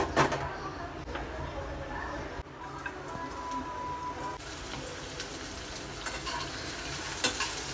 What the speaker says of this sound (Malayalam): അപ്പോൾ ഇതിൽ കുറച്ച് സവോള എടുത്തിട്ട് നമുക്കൊന്ന് വറുക്കാം.